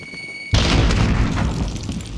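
A grenade goes off in a first-person shooter game, a sudden loud boom after brief quiet, its blast rumbling and crackling on for well over a second.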